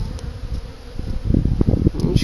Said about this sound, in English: So, I got a bee right there.